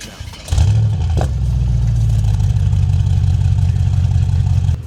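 A Mercedes GT63 engine cranks and fires up loudly at close range, flaring briefly with a rev before settling into a deep, steady rumbling idle.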